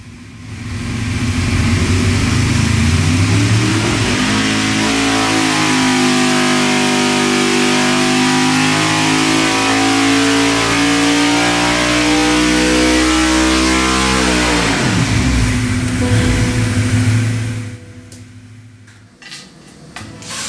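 A custom-built racing engine runs on a test stand, roaring loud and close as it climbs steadily in revs, holds high, then drops back sharply before trailing off to quiet.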